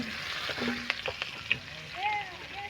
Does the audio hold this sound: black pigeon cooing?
no